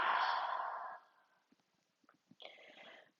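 A long, steady exhale during a yoga breathing exercise, a soft breathy rush lasting about a second, then quiet with faint small rustles and a brief breathy sound near the end.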